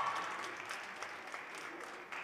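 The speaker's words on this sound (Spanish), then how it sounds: "Un fuerte aplauso entonces para el trayecto" A school awards ceremony audience applauds a student's athletics trajectory prize, steady moderate clapping from a modest crowd heard at a distance, fairly quiet and even throughout.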